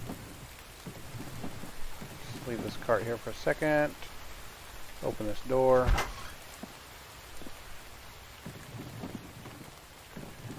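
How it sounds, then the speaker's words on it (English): Steady rain patters in the background with low rumbles, while a person talks nearby over the downpour. "Ugly, ugly day outside. Hopefully that rain will clear up here in just momentarily."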